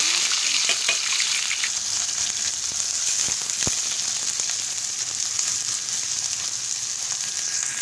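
Onions frying in hot ghee in a frying pan until light brown give off a steady, close sizzle with occasional stirring scrapes and clicks, with no talking throughout.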